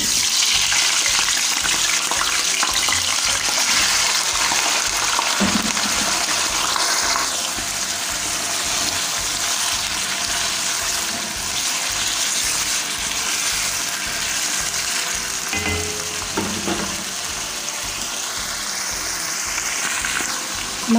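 Chicken pieces frying in hot ghee in a pan for chicken tikka karahi, giving a steady, loud, broadband sizzle that runs continuously without a break and with no voices.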